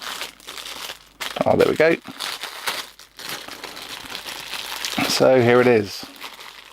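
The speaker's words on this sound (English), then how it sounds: "If you can get it out of the cellophane" A mini wireless keyboard is pulled from its crinkly cellophane wrapper, producing close bursts of rustling and crumpling plastic, while someone talks briefly between the bursts.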